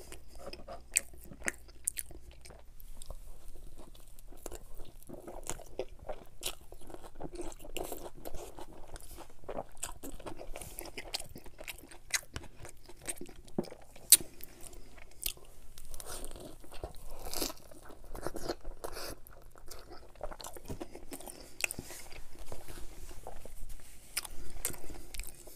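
Cheesy pepperoni pizza being eaten up close, with repeated crisp crunchy bites and wet chewing in an irregular rhythm, steady and fairly loud with no talk.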